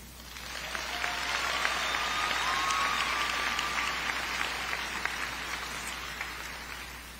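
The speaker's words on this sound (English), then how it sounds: "So let us give a round of applause for that." A graduation ceremony audience breaks into a swelling round of applause that builds, holds as a dense patter of many hands filling a large hall, then tapers slightly toward the end.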